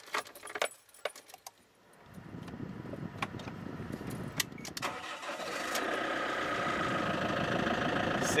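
An RV engine cranks and catches after a quiet stretch with a few light clicks, then settles into a steady, close idle hum that grows slightly louder and holds to the end.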